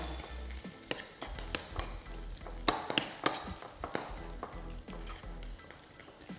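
Spoon stirring ponzu sauce into a salmon salad in a bowl, with a string of sharp scraping and clinking strokes in an uneven rhythm, close and fairly clear, with no talking.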